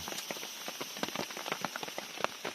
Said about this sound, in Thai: ฝนตกแรงมากเลยเด้อ